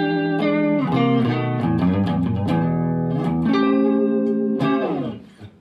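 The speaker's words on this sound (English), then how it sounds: "we've got a single coil near the neck, which is going to give you a kind of warmer sound" Pink Spur Mini electric guitar played through its neck single-coil pickup, a warm clean run of sustained notes and chords with light effects, ringing out alone and fading at the end.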